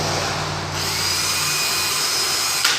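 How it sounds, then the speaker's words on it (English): Power drill pre-drilling a screw hole for a jewelry display case, a steady whirring motor with a rising pitch as the bit spins, ending with a brief bump as it finishes. "you'll want to pre-drill your hole."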